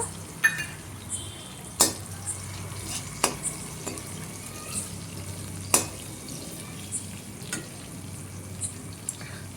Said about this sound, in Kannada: ಚೆನ್ನಾಗಿ ಎಣ್ಣೆನಲ್ಲಿ ಅವನು ಫ್ರೈ ಮಾಡ್ಕೋಬೇಕು